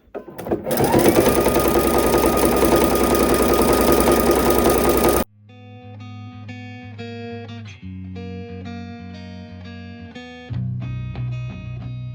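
A sewing machine stitches satin trim onto a fleece blanket, running loud and steady for about five seconds before stopping abruptly, followed by a gentler stretch of tonal, musical-sounding hum.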